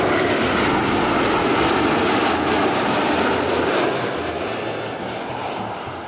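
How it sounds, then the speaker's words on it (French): Aircraft engines roaring at Fort Lauderdale airport, a loud, sustained jet whine and rumble that slowly fades toward the end. "on est à l'aéroport de Fort Lauderdale"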